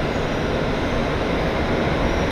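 A steady, loud rumble of a Kodama Shinkansen bullet train slowly pulling away from a station on the Tokaido line, continuous broadband noise with no voices over it.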